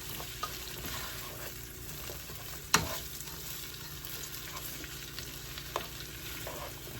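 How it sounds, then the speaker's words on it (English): Onion sautéing with black pepper in a pan for mustard pork chops sizzles quietly and steadily, with scattered stirring taps and one sharper utensil clack near the middle. "I just want to saute the onion"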